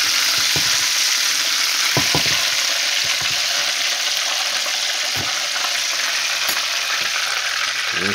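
Country fried chicken crackles and sizzles steadily in hot oil, a dense continuous frying hiss with occasional bubbling pops and light clunks as pieces are stirred or dropped in, close and loud with no talking.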